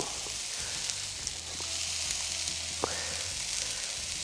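A smashed burger patty, pressed flat under baking paper, sizzles and crackles steadily on a hot pan, a dense continuous frying hiss with a few small pops and no talking.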